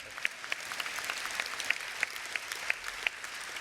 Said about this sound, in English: Norway deserves an applause.